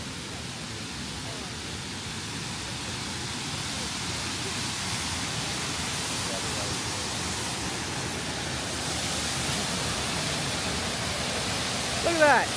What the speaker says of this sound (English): you can go right behind the waterfall and it's pushing down in front of you